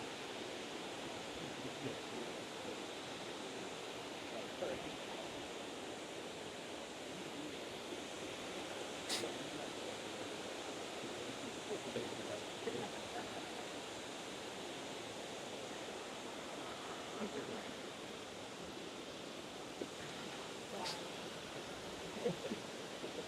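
Steady rushing roar of falling water, constant and even with no pauses or voices.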